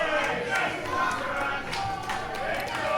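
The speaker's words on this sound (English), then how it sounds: "there are jeers, there are boos" A wrestling crowd packed into a library jeers and boos throughout, a dense, steady roar of many voices with no pause.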